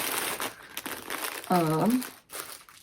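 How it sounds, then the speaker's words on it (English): Packaging crinkles in short, close rustling bursts while a knitter handles it, with a brief voiced sound over part of it. "Sorry for the crinkles."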